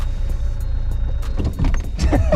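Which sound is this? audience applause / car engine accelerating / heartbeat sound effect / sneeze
car engine accelerating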